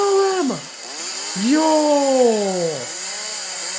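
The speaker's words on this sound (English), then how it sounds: "This is a real chainsaw." A real chainsaw revs loudly in two bursts, its whining pitch swooping up and down, with a brief shout over it.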